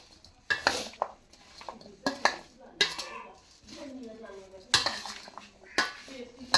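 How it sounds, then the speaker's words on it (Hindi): Fruit chaat being tossed with chaat masala in a bowl, a spoon clinking and scraping against the bowl in repeated sharp knocks, with a voice speaking softly between the strokes. "अच्छी तरह से मिक्स करूंगी।"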